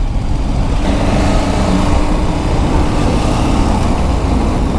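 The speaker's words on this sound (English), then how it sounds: "Filtering down EDSA on a touring bike." A KTM Super Adventure 1290 touring motorcycle filters through heavy EDSA traffic, a loud, steady engine and road roar with dense traffic noise around it and no talking.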